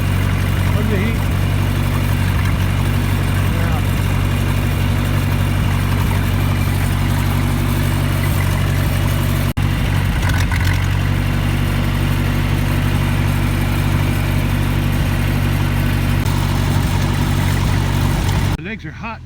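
Old tractor engine idling in an open pasture, a constant loud low drone with steady mechanical hum throughout, cutting off abruptly at the very end.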